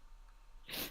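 A single short sneeze bursts out near the end, loud and close after a near-silent stretch, with no talking around it.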